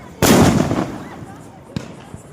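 A Diwali firecracker goes off with one loud, close blast that decays into crackle, followed by a smaller distant pop, while people can be heard nearby.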